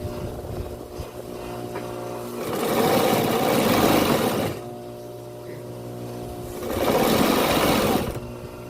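A sewing machine stitches a curtain for a kitchen sink, whirring in two loud sustained bursts separated by quieter pauses with a steady low hum between runs.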